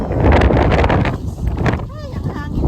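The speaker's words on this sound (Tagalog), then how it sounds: "Ay, ang hangin talaga." Strong wind blowing through a home garden of potted summer vegetables and a guava plant, heard as a loud, continuous low roar and buffeting that eases briefly near the middle, with a short high chirp toward the end.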